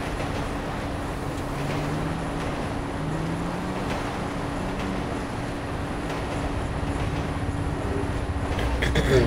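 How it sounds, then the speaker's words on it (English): A train rumbles past in the video game GTA 5, a steady, loud low roar with a droning hum that holds for the whole stretch and swells slightly near the end. "Stuck behind the train right now, either way."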